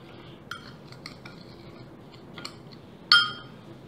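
Spices for a brisket dry rub being mixed in a bowl, heard as light, scattered clinks and taps of a utensil, ending in one sharper, louder ring of metal against the dish.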